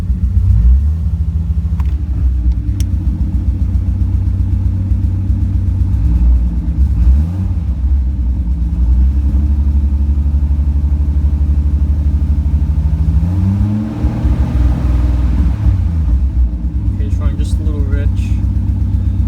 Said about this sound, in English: all that popping noise is from the exhaust because there's a little leak by the turbo housing